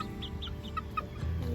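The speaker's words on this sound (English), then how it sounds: "Here's the chickens running over food." Several backyard chickens clucking in short, scattered bursts close by as they run over food, over a low steady background hum.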